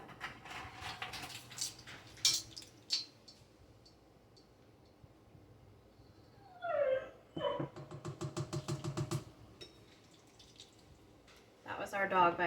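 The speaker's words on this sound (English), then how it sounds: "That was our dog, by the way." A dog barks in a home kitchen during pizza dough preparation, a burst of several sharp, fairly close barks in quick succession, with a few more at the end, amid faint clatter and a quiet room.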